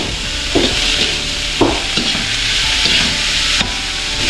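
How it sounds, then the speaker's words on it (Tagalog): Carrots sauté in a hot pan, sizzling loudly and steadily while a utensil scrapes and stirs through them every second or so in irregular strokes. "Ngayon po ilagay na natin yung ating carrots ayan gipagisa muna natin to"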